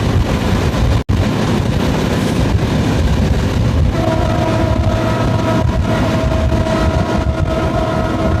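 A train rolls along the Jessore-Chuadanga railway line with a loud, continuous rumble and rattle heard from on board, and a sustained horn tone joins partway through.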